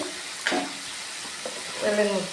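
Spices sizzle in hot oil as sugar is stirred in while cooking taro leaves (kochu shaak), a steady close frying hiss broken by a few scraping stirs.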